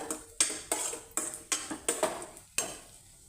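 Cashews and raisins being fried in a pan, with a series of sharp metallic clinks and scrapes of a spoon against the pan at a steady, uneven rhythm, close and fairly loud, with no voices.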